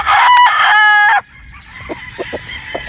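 A bulik gold gamefowl rooster crows loudly and close by in one long cock-a-doodle-doo, followed by softer clucks and faint farmyard noise.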